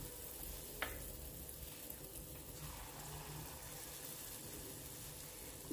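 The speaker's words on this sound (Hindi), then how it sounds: "घी गरम हो गया है, इसमें गुलगुला डाल देते हैं।" Gulgula batter drops into hot ghee and fries with a faint, even sizzle, one soft splashy pop near the start and a steady crackling hiss continuing afterward.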